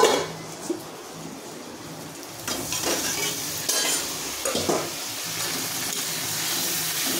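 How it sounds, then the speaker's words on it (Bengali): Young jackfruit fries in hot oil with a continuous sizzling hiss, broken by irregular scrapes and clinks as it is stirred in the pan. "এই যে এঁচড়টা ভাজছি"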